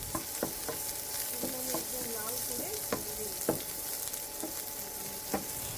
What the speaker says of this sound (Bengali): সবশেষে দিলাম পেঁয়াজ কুচি। এবার এগুলো ব্রাউন কালার আসা পর্যন্ত ভেজে নিব।